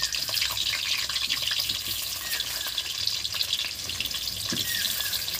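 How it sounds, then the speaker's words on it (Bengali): Potatoes fry in oil for a pumpkin biryani, producing a continuous moderate sizzle with occasional spoon clinks and stirring knocks, and no voices. "আলু দিয়ে দিচ্ছি এই তেলের মধ্যে"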